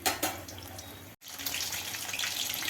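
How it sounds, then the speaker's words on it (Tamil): A steady crackling hiss of bajji sizzling in hot oil, briefly cut off and then resuming, close and fairly even throughout. "இன்னும் அந்த எண்ணெயில் சடன்னு தண்ணி சத்தம் கேட்டுகிட்டே இருக்குது"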